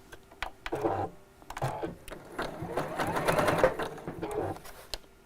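A sewing machine stitches around a gift bag corner in short, stop-start bursts, moderately loud and close, with pauses between runs.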